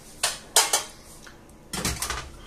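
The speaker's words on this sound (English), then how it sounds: "I'm going to get the baking dish ready" Ceramic and metal clatter as a baking dish is pulled out and set down in a home kitchen for a potato and chicken bake, several sharp knocks and scrapes at close range with short pauses between.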